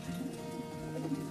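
Pigeons in a high-flying pigeon loft coo softly and repeatedly, a faint, low murmuring burble against quiet background hum.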